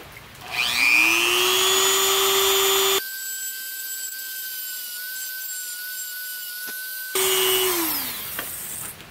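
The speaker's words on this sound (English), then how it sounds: "Let's see if I need to Dremel anything." A Dremel rotary tool spins up with a rising whine, grinds for several seconds on a C5 Corvette seat track part, then winds back down.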